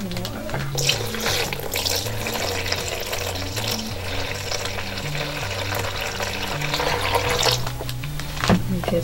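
Tap water runs steadily into a vessel for a glue-and-water mix on a string pumpkin craft, a continuous close hiss lasting throughout with a low tonal hum underneath.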